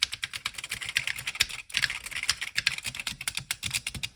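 Fast, hard typing on a freshly cleaned Atari 800 computer keyboard produces a dense, continuous run of close, sharp key clacks with barely a pause.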